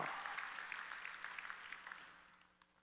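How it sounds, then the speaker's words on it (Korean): A church congregation at a Wednesday worship service claps together in faint, distant applause that gradually fades away over a few seconds. "박수다."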